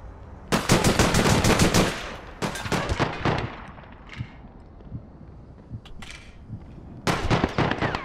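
Gunfire in the online shooter APB Reloaded: loud, rapid bursts of shots, a short pause with scattered single reports and distant echoes, then another burst, with no talking.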